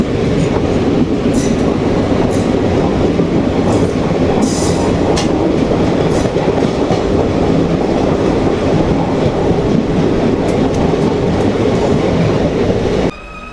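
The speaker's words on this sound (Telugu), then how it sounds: "మన పక్కనే the legendary Tirupati Kakinada town fast passenger train అయితే ఉంది" Loud, continuous rumble of a passenger train in motion, with rattling wheels and occasional metallic squeaks, heard from close by until it cuts off abruptly near the end.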